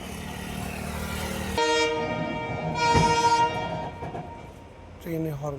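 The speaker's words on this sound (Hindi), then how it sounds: "ट्रेन ने हॉर्न कर दिया है।" The loud horn of the Amritsar–Bikaner Superfast Express sounds in long sustained blasts, close by, over rumbling rail noise, with a short final toot at the end.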